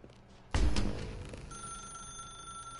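A telephone in The Stanley Parable rings inside a dark room, a loud sudden ring that decays into a lingering electronic tone.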